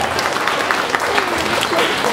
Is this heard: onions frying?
no